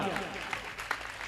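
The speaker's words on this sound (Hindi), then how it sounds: "मैं चाहूंगा एक बार जोरदार तालियां" Audience at a Jain monk's religious discourse bursting into loud applause, a dense clapping wash lasting the whole short moment with some voices mixed in.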